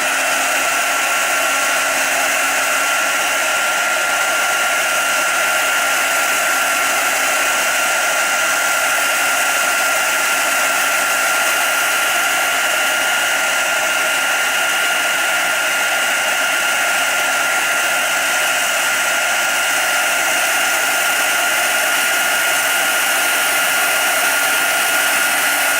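A heat tool blows continuously over a mixed media Christmas diary cover to dry the ink, making a loud, unbroken whirring hiss close by that lasts the whole time with no talking.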